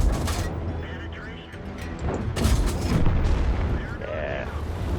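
Tank cannon fire in the video game World of Tanks: heavy booming shots and rumbling impacts mixed with game noise, while someone talks over the action.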